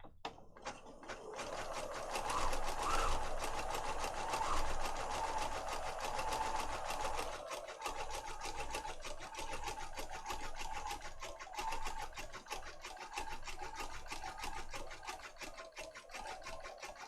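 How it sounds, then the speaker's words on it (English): A sewing machine zigzag stitches along the bottom of a paper junk journal page, running in a steady, continuous mechanical whir at close range with no talk over it. "I'm zooming on the sewing machine when you're sewing."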